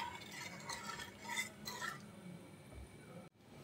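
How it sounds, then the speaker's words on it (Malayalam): A spoon stirs a fish curry with fenugreek in a pot after salt is added, a few scraping, clinking strokes against the pot for a couple of seconds, then a brief knock. "ഉപ്പ് ചേർത്തിട്ട് നന്നായിട്ടൊന്ന് ഇളക്കി കൊടുക്കാം."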